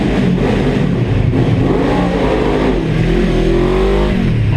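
An enduro motorcycle engine revs loudly and close, a continuous strained roar with shifting pitch as the rider accelerates, with no talking over it.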